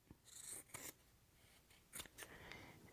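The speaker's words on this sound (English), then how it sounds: "So now I'm going to take and cut this off where I want it." Scissors snip through a long thrifted scarf in a few quick, crisp cuts with soft rustling of the fabric between them, quiet and close.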